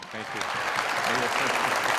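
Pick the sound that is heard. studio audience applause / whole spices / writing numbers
studio audience applause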